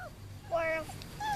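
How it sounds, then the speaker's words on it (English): Puppies playing outdoors in a cage let out a few faint, high whimpers and short yips, spaced out against soft background noise. "we're playing with the puppies outside again"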